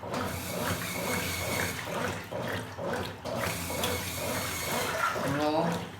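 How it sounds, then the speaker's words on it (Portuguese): Water pouring steadily into a washing machine tub, a continuous splashing rush close by, with a voice speaking over it. "Eu vou colocar mais água."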